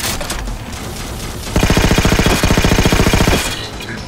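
Rapid automatic gunfire from the video game Halo 4, a dense, steady burst of evenly spaced shots lasting about two seconds, loud and close, with quieter ambient battle noise before and after.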